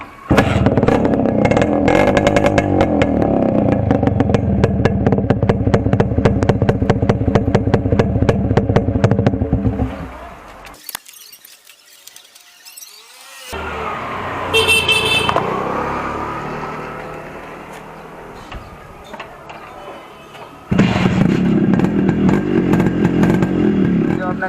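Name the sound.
modified Yamaha RX100 motorcycle engine with cut muffler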